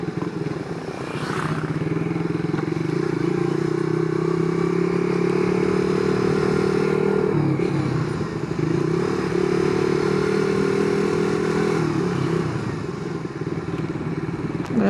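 A motorcycle ridden along a practice area, its engine droning steadily and loud up close, with slight pitch shifts and a brief dip around the middle.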